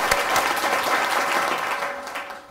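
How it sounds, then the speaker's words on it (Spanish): A talk audience breaks into applause, a full, dense clatter of many hands clapping that holds steady and then thins and fades toward the end, with no voices over it. "por favor, dadle a reiniciar el aplauso"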